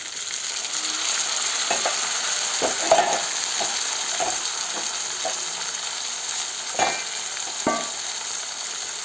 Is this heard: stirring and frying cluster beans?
yes